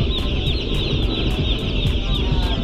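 Chickens cluck close up aboard a boat in the Philippines, a dense, continuous chorus of overlapping clucks with no talk, over a steady hum and a regular ticking beat.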